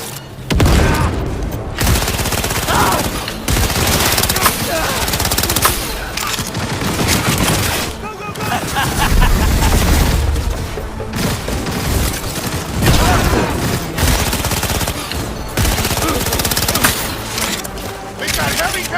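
Dense, continuous gunfire from the Cyberpunk 2077 video game, rapid bursts and shots piling into a loud barrage for the whole stretch, with shouted voices mixed in.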